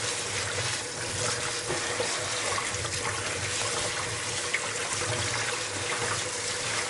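Seeds being washed under running tap water before going into a home electric oil press, a steady continuous splashing flow at close range with no talk.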